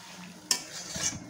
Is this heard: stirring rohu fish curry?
yes